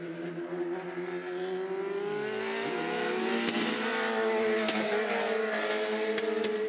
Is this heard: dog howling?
no